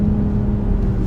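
A Hyundai Ioniq 6 N drifts, giving off a loud, steady motor hum and whir that stays even for about a second with no talking.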